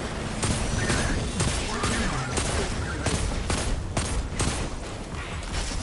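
Hand cannon fire in a shooter video game, a rapid string of loud, sharp shots with crashing impacts packed densely from start to finish, voices occasionally audible beneath.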